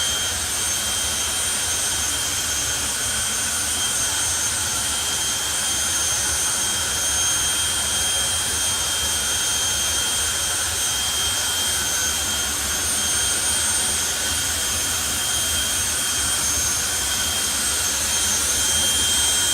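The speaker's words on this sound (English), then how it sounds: "from one noisy camper van to two very noisy jet dragsters" Two jet dragsters at a drag strip roar continuously, producing a loud, sustained jet-engine blast with a piercing whine that stays steady for about twenty seconds, with no talking.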